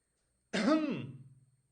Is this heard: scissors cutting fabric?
no